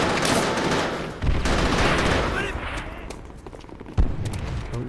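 Gunfire in Black & White (2001), a burst of rapid shots followed by a couple of sharp, louder single cracks over a few seconds, with a voice talking over it.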